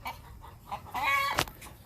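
A farm rooster gives a single short, close cluck-like call over quiet background.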